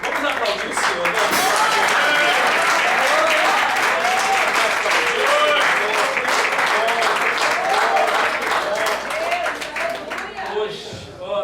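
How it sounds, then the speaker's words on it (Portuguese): Church congregation at a Sunday service applauding, a loud, full burst of many clapping hands with cheering voices mixed in, sustained for about ten seconds before tapering off. "Vamos aplaudir o Senhor, né?"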